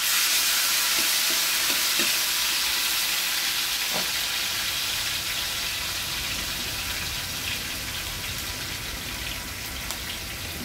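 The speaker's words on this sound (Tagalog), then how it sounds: "Painit na po ako ng mantika. Sunod po natin ay bawang." Garlic frying in hot cooking oil gives a loud, continuous, even sizzle like steady rain, with a few faint clicks early on and no talking.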